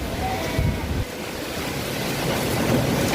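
A strong windstorm with heavy rain sweeps through the town of Selatpanjang, a dense, loud roar of gusting wind buffeting the microphone, with a rushing, surf-like wash throughout.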